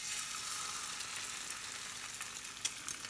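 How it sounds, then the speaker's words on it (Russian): Eggs fry in a pan with a steady, close bright sizzle and crackle that holds evenly throughout, with occasional sharper pops and no talking. "Яйца там жарятся"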